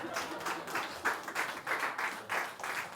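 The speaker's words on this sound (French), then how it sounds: "Frère, tu peux applaudir au fond, s'il te plaît?" An audience in a church claps in a steady, moderately quiet round of applause, the rhythmic hand claps blending together at a slight distance.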